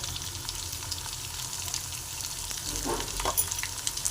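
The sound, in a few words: frying peanuts, dried chillies, turmeric and asafoetida in a pan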